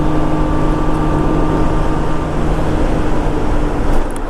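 A 1998 Honda Goldwing SE motorcycle rides along, giving a loud, continuous engine drone with steady low hum and broadband road and wind rush, even throughout and without speech.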